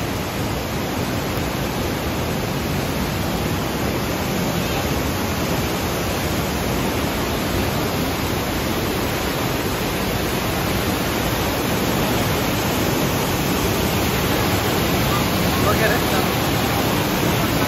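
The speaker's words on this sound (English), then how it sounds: "Listen to the roar of that waterfall." A loud, steady roar of heavily falling water from a gorge waterfall at Watkins Glen State Park, New York, continuous and broadband throughout, with no pauses and no voices on top.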